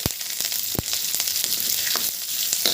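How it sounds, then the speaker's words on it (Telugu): Curry leaves fry in hot tempering oil for a ponnaganti greens dish, giving a steady close sizzle with sharp crackling pops scattered throughout and no talk. "కరివేపాకు కూడా వేగనివ్వండి"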